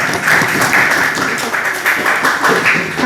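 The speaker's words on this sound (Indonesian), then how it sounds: "Beri tepuk tangan ya." An audience applauds at an open exam on Quran interpretation, a dense, steady wash of clapping that holds fairly loud and even throughout.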